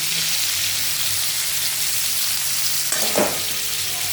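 Pumpkin pieces fry in a hot pan, a loud, continuous sizzle that stays steady, with a brief burst of stirring or scraping near the end.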